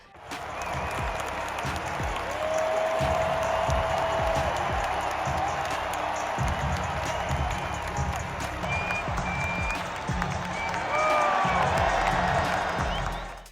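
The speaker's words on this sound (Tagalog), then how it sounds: "talagang sobrang hiyawan nga itong mga Nets fans ang buong arena" A Barclays Center basketball crowd roars continuously for LeBron James, loud sustained cheering and applause filling the arena, with a voice talking over the din.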